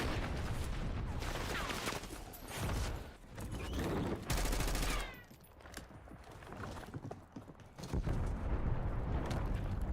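Sustained bursts of gunfire and explosions from a Black Ops 6 Warzone solo match, loud and dense, with rapid volleys rising and falling over several seconds and brief quieter gaps.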